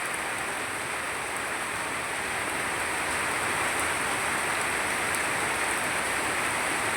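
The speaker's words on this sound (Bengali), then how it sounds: "বৃষ্টির শব্দটা কিন্তু শুনতে ভালোই লাগে" Heavy rain pours down steadily, a dense continuous hiss of drops hitting surfaces, swelling slightly louder toward the end with no voices over it.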